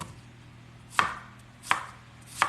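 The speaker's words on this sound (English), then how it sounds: "so I'm going to cut some little thin pieces of onion" A knife slices through a small Vidalia onion on a cutting board, making three crisp evenly spaced chops that land close and clear over a faint background hum.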